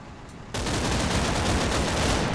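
Sustained machine gun fire and fusillade in the WWII game Combat Mission: Battle for Normandy, starting abruptly after a half-second of quieter background and continuing as a loud, dense, unbroken burst of gunfire.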